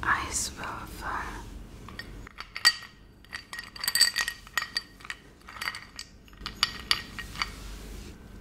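Ice cubes clink against a drinking glass close up in a quiet whispered setting, with a run of light, sharp glassy taps and rattles scattered across the clip amid soft handling noise.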